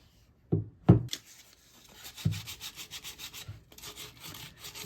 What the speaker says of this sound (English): So I'm going to do some sanding, and then I'm going to prime it next.